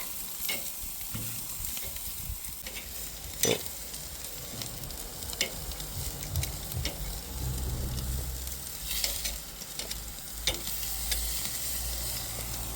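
Bratwurst sizzle steadily on a grill, a continuous close frying hiss with occasional pops and crackles running throughout, with no talk.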